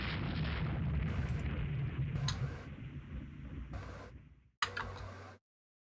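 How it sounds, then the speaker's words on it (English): A torpedo strikes a warship in the naval game Rule the Waves 2, heard as a loud rumbling explosion with ticking effects that fades, then a brief final burst before cutting to silence. "SB hit by another torpedo"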